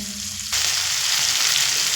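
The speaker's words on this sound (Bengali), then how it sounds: "পরিমাণ মতো লবণ আর পরিমাণ মতো হলুদ দিয়ে চিংড়ি মাছটা একটু ভেজে নেব" Prawns coated with salt and turmeric hit hot oil, setting off a sudden, loud, continuous sizzle that stays close and steady after a quieter first half-second.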